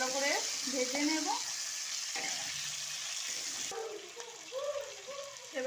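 Green chillies and tomatoes frying with salt in hot oil, a soft steady sizzle under a speaking voice that runs throughout.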